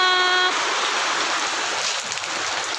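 Heavy rain pours down steadily under a darkening sky, a dense, loud, continuous hiss, with a brief tonal sound at the very start.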